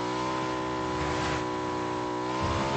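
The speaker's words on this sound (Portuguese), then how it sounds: "Parece que houve um carro saindo." A car in the battle royale video game PUBG drives off, its steady engine drone holding a constant harmonic hum with a slight rise in revs near the end, heard continuously and moderately loud with no talk.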